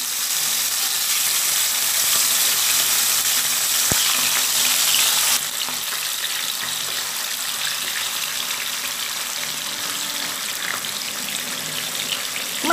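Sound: frying bata fish in hot oil

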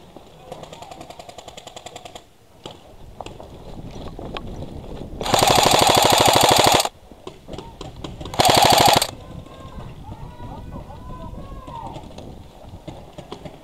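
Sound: gunfire from a distance

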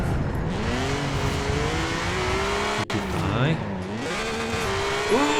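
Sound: BMW Z4 engine and tyres drifting in video game Forza Horizon 4

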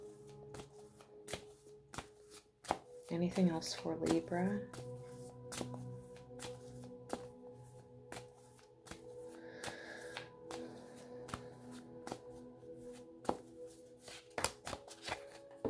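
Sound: shuffling oracle cards

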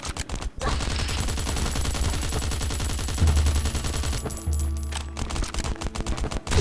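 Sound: gunfire in the video game Last Island of Survival

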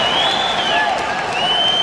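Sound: applause after equalizing goal at ice hockey match

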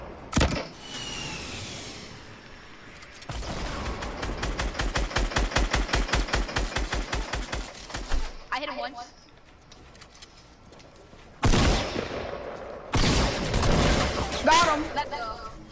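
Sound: gunfire in a video game

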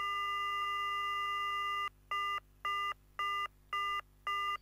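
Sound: telephone ringing in Silent Hill video game

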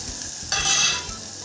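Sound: ground paste added to hot tempering oil, sizzling

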